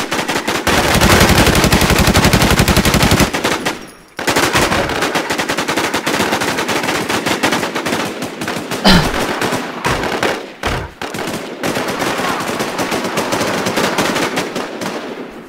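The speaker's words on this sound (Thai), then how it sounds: "กูยิงแตกเยอะมากเลยเพื่อน กูยิงแตกแตกเยอะมาก" Dense, loud automatic gunfire from the survival shooter Infestation fills the stretch in rapid sustained bursts, with brief pauses around four and ten seconds before firing resumes.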